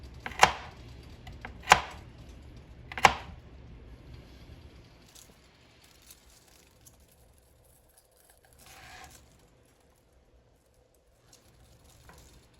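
A knife chops vegetables on a board, with three sharp, distinct strikes near the start followed by quieter scattered cuts and soft scraping as the sound fades.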